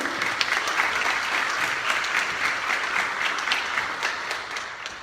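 A church congregation at an evening women's gathering applauds steadily for about five seconds, with dense, even clapping that fades slightly at the end.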